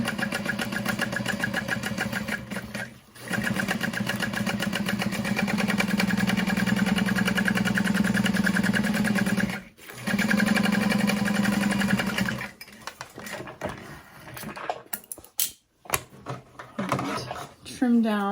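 A sewing machine bastes along a bowler bag seam, a loud, close, continuous whirring run with two short pauses, then slowing into scattered stitches and handling clatter near the end.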